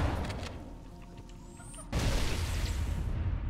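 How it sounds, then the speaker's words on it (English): A grenade goes off in the co-op shooter Halo: Combat Evolved, with a sudden loud broadband blast cutting in after a quieter stretch of ambient game noise and a thin whistle, then a sustained roaring tail. "Grenade."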